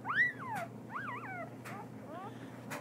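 A puppy whimpers in a few quiet, rising-and-falling high whines, separated by short pauses against a low background hum.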